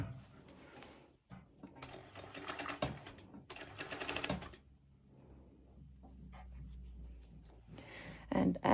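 A home sewing machine stitches a fabric seam on a sporty crossed-strap top, running in two clear rapid whirring bursts with pauses between, while a voice talks quietly in between.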